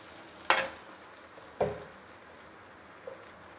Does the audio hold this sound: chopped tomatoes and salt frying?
yes